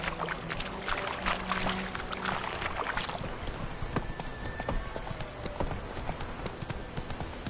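Rhythmic hoof clip-clop from a horse running in The Witcher 3 video game, steady and close throughout, over a bed of ambient game sound; no one speaks.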